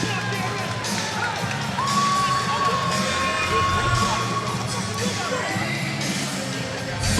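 A crowd at an FAC 13 fight event cheers and yells steadily, with whoops and shouts rising over a continuous roar; an announcer's voice runs faintly underneath.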